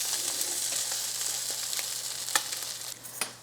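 Patties fry in a hot skillet with uneven hot spots, giving a steady close sizzle with scattered spitting pops and a couple of sharper crackles near the end.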